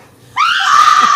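A person screams, a single sustained high-pitched cry that starts abruptly after a moment of near silence and holds loud and steady to the end.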